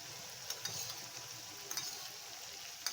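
Soy sauce goes into chili paneer frying in a pan, giving a steady, bright hiss of sizzling oil throughout with a few soft clicks and taps of stirring, close and continuous with no talk.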